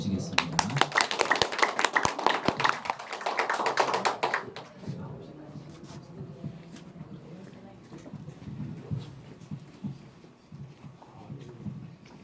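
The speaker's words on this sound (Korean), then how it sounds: "강사님 박수로 모시겠습니다" Audience applause greets a lecturer at a Korean talk, a burst of dense clapping for about four seconds that fades out, followed by quieter room sounds and voices.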